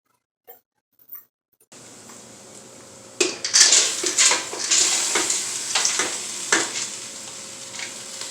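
Ham and split peas dumped into a pot for split pea soup: a couple of faint taps, then a steady hiss, followed by a rattling, rustling pour of dry peas into the pot, close and fairly loud, no talking.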